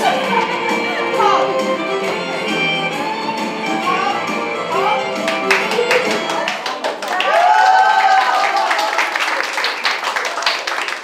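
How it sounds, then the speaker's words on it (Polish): Clapping from an audience watching preschoolers dance comes over lively music, growing into sharper, faster hand claps in the second half, with a voice talking over it. "Ale nie wystarczyło samo oklaskiwanie tańczących przedszkolaków."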